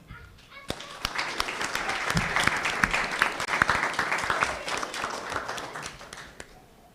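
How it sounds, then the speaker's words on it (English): Applause at a school board meeting for student scholars, many hands clapping in a dense, steady wash that swells after a quiet start and holds for several seconds, with a few sharper claps standing out and faint voices underneath. "Let's give our scholars another round of applause for their great accomplishments"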